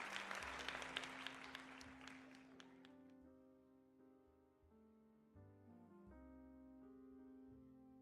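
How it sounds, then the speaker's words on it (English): A round of applause fills the opening seconds and fades out, giving way to sustained musical tones. "let's do a little round of applause."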